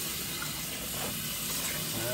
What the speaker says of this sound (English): you want to make sure you wash these leaves thoroughly